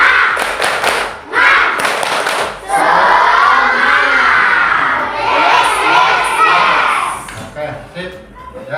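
A classroom of children performing the tepuk semangat clap chant, with loud group shouting and rhythmic claps in bursts that fill the room close by, broken by brief pauses.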